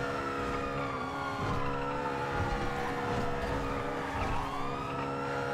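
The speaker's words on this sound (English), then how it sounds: "But this car sounds like fucking ass." Car engine in the video game GTA V on the NoPixel roleplay server during a police chase, revving loudly and continuously with rising and falling pitch, under a wailing siren and tire skids.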